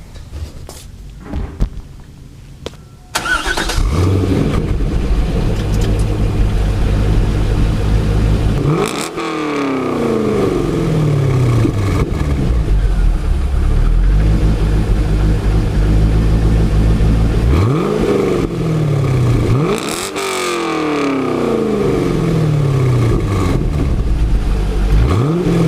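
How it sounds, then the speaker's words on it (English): A C5 Corvette Z06 with a titanium exhaust cranks over and fires up, then settles into a loud steady idle broken by three rising revs that sweep up and fall back, close and alone. "Now I'm gonna go ahead and start it, give it a little bit of rev"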